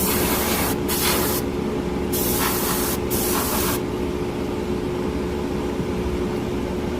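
A Harder & Steenbeck Evolution Silverline airbrush with a 0.4 mm tip sprays paint in a steady airy hiss, broken by a few short bursts early on, then one continuous spray over a constant low compressor hum.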